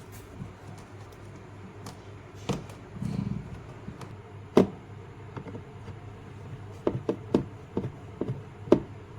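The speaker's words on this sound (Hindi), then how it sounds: "अभी स्क्रू लेके एक एक स्क्रू को यहाँ पर हम टाइट करेंगे" Screws tightened on the selector switch of an air cooler during a repair, a series of small sharp ticks and taps of hand and tool, close and faint, with a short low rumble.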